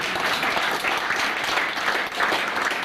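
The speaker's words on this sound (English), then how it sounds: "Round of applause for that." Wedding guests give sustained, dense applause, loud and even for the whole stretch with no talking over it.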